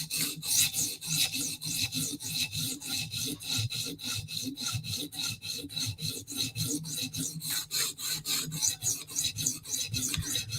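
A file draws across a blade in a light deburring pass, making rapid, evenly spaced rasping strokes, close and crisp, in a steady rhythm throughout with no talking.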